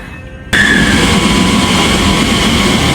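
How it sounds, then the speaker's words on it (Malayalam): A train arriving at a station starts with an abrupt rumble that stays loud and steady, with a continuous mechanical roar and faint tonal whine, heard up close. "ഫൈനലി ട്രെയിൻ കയറി"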